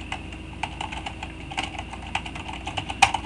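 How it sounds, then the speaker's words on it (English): Typing on a computer keyboard, a close series of light, irregular key clicks with one sharper tap near the end, and no voices. "I'm going to first center my text and type in something like Alex Electronic Portfolio"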